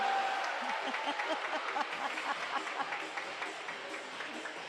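Volleyball fans in the stands of a home college match clap and cheer together, a dense, steady patter of applause and crowd noise heard from across an indoor gym.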